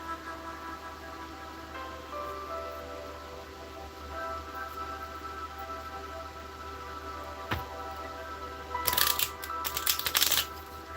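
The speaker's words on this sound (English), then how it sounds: "after I shuffle the deck" A deck of oracle cards is shuffled indoors: a quiet background hum for most of the stretch, then two bursts of crisp riffling card flutter near the end.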